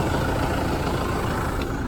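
A Kubota tractor's diesel engine idles steadily and close by while being hooked up to a DM2028 disc mower, a low, even rumble with no voices.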